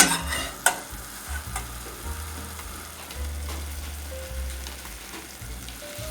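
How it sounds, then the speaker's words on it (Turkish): Cold water is poured into a hot pan of sautéed tomato paste for a milky tomato soup, bursting into hissing sizzle with stirring scrapes, then settling into a steady, fairly quiet bubbling fry. "Şimdi soğuk su koyuyoruz özellikle."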